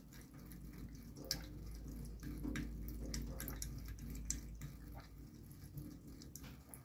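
Water draining out of a household water tank, a steady close rushing and gurgling flow with occasional drips and splashes, heard without talk.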